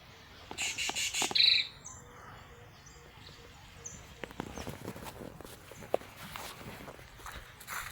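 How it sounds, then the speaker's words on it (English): A small bird in an East African village gives a quick series of high, thin chirps, followed by soft scattered footsteps and light rustling outdoors. "So kindly listen to that bird."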